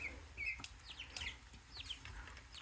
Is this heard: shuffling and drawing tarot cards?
no